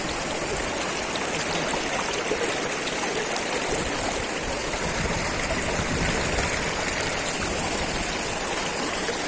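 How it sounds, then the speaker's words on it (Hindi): Water rushes continuously over an uneven rocky stream bed at Lakhaniya Dari near Mirzapur, a dense, steady wash of flowing and splashing water close by with no voices. "ये नीचे के सतह की असंरचित होने से टकराता पानी और ये एक प्रकार की रेख बनती हुई और ये पानी फिर आगे चलता जा रहा है"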